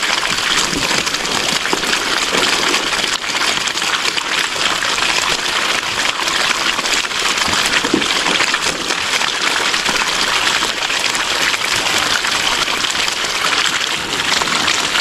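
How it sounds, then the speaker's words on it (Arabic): Water from a desert spring at night splashes and gushes steadily, a loud continuous rushing and spattering close by that holds without a break. "انا سمعت صوت ميه اتفاجئت ان في عين هنا"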